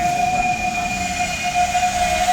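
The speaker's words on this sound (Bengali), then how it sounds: "তো ভাই এখন ট্রেনটা যাচ্ছে" Train moving through a small station at night, a steady rumbling roll with a sustained high tonal whine from the wheels or horn, loud and close.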